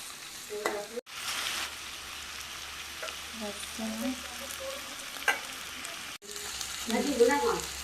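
Dried chilies and garlic frying in hot oil for a mutton dish, a steady close sizzle with crackles, stirring scrapes and a couple of brief pauses, no talking.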